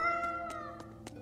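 A cat in the video game Tales of Berseria gives a short series of about four quick, clear meows over soft background game music.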